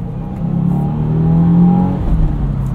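A turbocharged 2022 Subaru WRX with a 6-speed manual revs hard, its engine note rising through a brief shift and climbing again, loud and close from inside the car.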